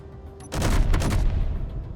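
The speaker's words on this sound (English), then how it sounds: "They're shooting straight down." Weapons firing in the video game Space Engineers: a sudden dense roar of rapid shots starts after a brief quiet moment, then holds as a continuous rumbling barrage with crackling bursts, steady and loud to the end.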